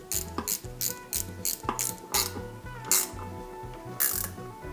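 A ratchet wrench tightens bolts with quick bursts of close, sharp clicking, several separate strokes of ratcheting spaced across the stretch.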